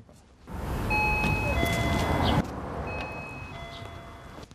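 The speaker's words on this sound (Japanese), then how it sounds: "呼び鈴も鳴らしますが、" An apartment doorbell chime sounds twice, each a short stepped series of electronic tones, over a steady hiss of background noise.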